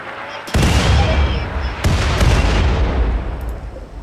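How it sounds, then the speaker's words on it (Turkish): Mortar shells fire one after another in RimWorld, a couple of heavy booming bursts with rumbling tails that swell loud and fill the space, with no talk over them. "Arka arkaya geliyor mermiler ya."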